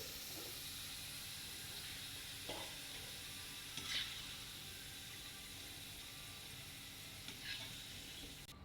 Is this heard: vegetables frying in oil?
yes